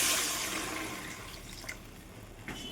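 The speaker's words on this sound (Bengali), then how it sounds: "আমি এই যে গরম জল পরিমাণ মতো দিয়ে দিই" Hot water pours into a pan of fried curry spices for boal fish curry, a loud rushing gush at first that fades to a softer bubbling trickle with a couple of light knocks.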